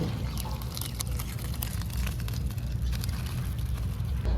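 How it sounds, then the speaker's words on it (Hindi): Boiled rice water for veg biryani being drained through a sieve makes a steady, close rushing pour with splashy trickling. It holds evenly for about four seconds with no voices. "एक चलनी की सहायता से पानी को अलग कर देंगे चावलों से।"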